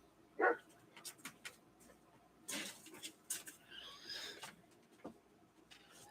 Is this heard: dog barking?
yes